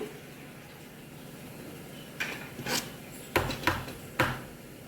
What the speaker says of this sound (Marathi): आता आपण सर्व प्लेटमध्ये हे बॅटर टाकून घेऊया